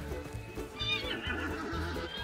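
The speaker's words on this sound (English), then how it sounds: "Shut up, horse." In the Hunt: Showdown video game, a horse whinnies loudly with a rising, wavering call while hooves clip-clop steadily beneath it. The sound is close and continuous.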